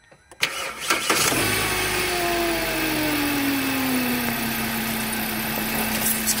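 A Hyundai Accent engine cranks and catches after a few sharp clicks, then settles into a steady, fairly loud idle with a slowly falling whine.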